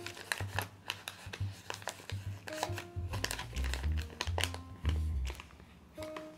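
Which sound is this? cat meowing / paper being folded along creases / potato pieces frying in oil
paper being folded along creases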